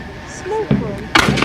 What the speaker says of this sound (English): the Jacobite army are sending forward individual musketeers to try and take pot shots at the enemy